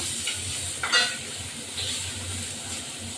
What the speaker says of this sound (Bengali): আলুটা এভাবে ভাজা হবে